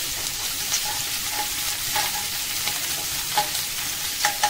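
Garlic fries in a pan over low gas with a steady, close sizzle, while a spoon stirs now and then and gives light scrapes, with no talk over it.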